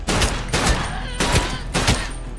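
Bursts of gunfire in a tense film action scene, shots fired at a fleeing man: three rapid volleys of loud, close cracks with rumbling tails, spaced about half a second to a second apart.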